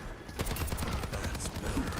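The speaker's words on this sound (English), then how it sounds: "Enemy turret shot." Rapid turret fire in Overwatch 2, a fairly quiet, steady stream of sharp shots rattling over busy match noise for about two seconds.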